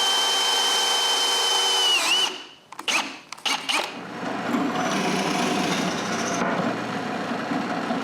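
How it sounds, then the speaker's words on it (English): Drill press boring holes in a wooden piece for a homemade wooden chainsaw mill, with a steady whining tone that cuts off abruptly, a few sharp bursts of contact, then continuous broadband machine noise throughout. "Then I can drill 3 holes to bolt this in place."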